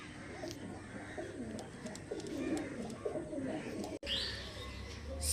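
Pigeons in a loft coo repeatedly in low rolling calls, with scattered chirps and a brief thump near the end.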